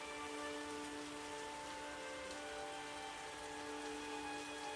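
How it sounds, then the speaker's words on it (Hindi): Light rain falls steadily outside a farmer's home, a soft, even hiss that holds without change throughout, with a faint tonal hum underneath. "बाहर बारिश हल्की हो चुकी थी"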